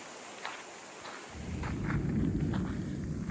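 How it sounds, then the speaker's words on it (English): Deep, sustained low rumble swelling in after a quiet start, like loud unseen airplanes passing overhead or distant thunder, heard outdoors in a hollow in Southwest Virginia, steady and heavy through the rest. "Hearing some loud planes flying, but you can't see anything."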